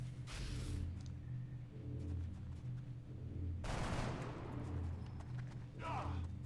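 Game gunfire from XCOM Long War, with several loud bursts of shots and booms spread across the stretch, the heaviest around the middle, over a constant low background hum.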